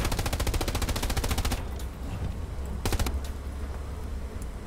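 Machine gun fire in the WWII shooter Hell Let Loose: a sustained rapid burst of rounds for about a second and a half, a pause over rumbling ambience, then a second short burst.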